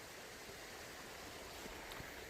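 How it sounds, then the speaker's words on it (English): A river stream in Ecclesall Woods, Sheffield, flows with a faint, steady babbling hiss, continuous and distant-sounding with no voices. "This river runs that direction now"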